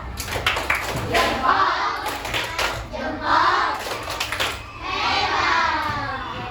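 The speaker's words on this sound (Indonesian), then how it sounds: "Sekarang kita berikan tepuk hebat untuk kita semua yang sudah melakukan presentasi dengan baik" A classroom of children performs a rhythmic cheer clap, bursts of unison hand claps and pats in patterned groups mixed with chanting young voices, close and lively.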